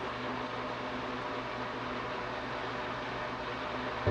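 A Breville Super Q Pro blender runs steadily, mixing eggs into cheesecake batter with a continuous, even motor whir and churning noise that holds at a constant level throughout, close and alone.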